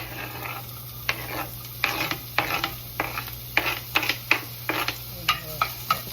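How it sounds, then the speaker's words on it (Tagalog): Red onion frying in a home-cooking pan, a soft sizzle under repeated sharp scraping and stirring strokes of a utensil, irregular bursts close by, no talk. "ilunod na natong atong sibuyas nga pula"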